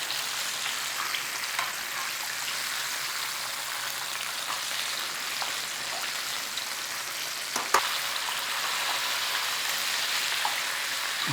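Chicken pieces shallow-frying in a pan rather than a deep fryer, giving a steady, bright crackling sizzle throughout with occasional louder pops and clinks.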